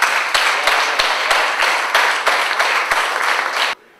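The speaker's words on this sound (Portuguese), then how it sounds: "Mais uma vez um forte aplauso." Dense audience applause at a fado evening in a parish hall in Guifões, loud and steady with sharp claps, cutting off abruptly near the end.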